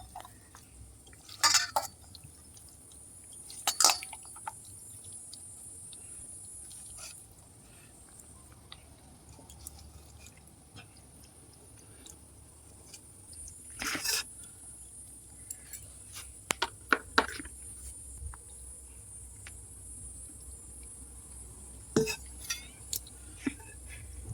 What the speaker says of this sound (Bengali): তো মোরলা মাছগুলো আমি টিফিন কৌটে ভরে নেব।